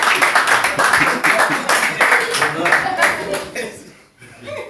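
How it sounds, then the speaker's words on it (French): Brief burst of clapping from a church congregation, with scattered laughter and voices mixed in, fading out near the end. "Applaudissons pour Moïse."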